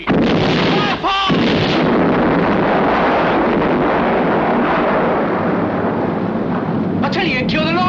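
Torpedoes launched and exploding in a 1968 film, a long rumbling roar of blast and rushing noise that fills the clip, with shouted voices cutting in near the start and the end.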